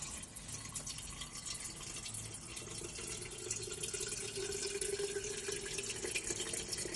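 Steady rushing of water pouring into a thermos inside a van, continuous and fairly close, with a faint rising tone as it fills.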